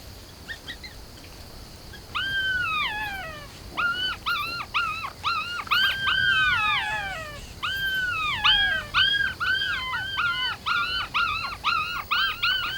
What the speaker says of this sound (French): Les hurlements sont un signal utilisé par les chacals pour marquer leur territoire